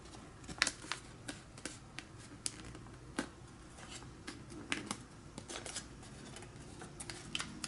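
Thin origami paper being folded, turned over and pressed into creases, giving a string of soft, crisp rustles and sharp little crackles at irregular intervals, close by and fairly quiet.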